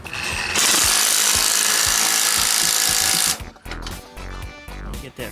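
An impact-style power tool snugs the flywheel gland nut on a 1956 chop-top VW Beetle during clutch replacement, a loud sustained rattling burst of about three seconds followed by short clanks and handling noise nearby.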